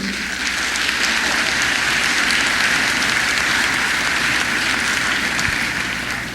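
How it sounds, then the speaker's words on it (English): A live studio audience applauds in a dense, steady wash of clapping that holds for several seconds without a break, with no talking over it. "Yeah, give me some applause"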